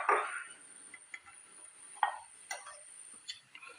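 A spoon taps and scrapes around a cup while cocoa powder and honey are stirred into milk, giving scattered light clinks spaced irregularly over a steady faint high hiss, close and quiet.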